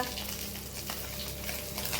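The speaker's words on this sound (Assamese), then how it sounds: "মোৰ শাহুমাই মাছ ভাজিছে চক" Fish frying in a pan, a dense, continuous close sizzle with faint stirring scrapes, loud and steady throughout with no voices.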